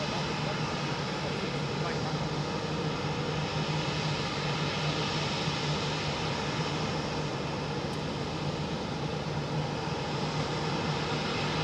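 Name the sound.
Gulf Air Boeing 787 Dreamliner jet moving at Heathrow Airport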